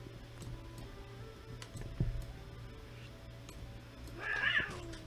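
A house cat meows once, fairly faint, near the end, over a steady low hum and light clicking from a gaming setup.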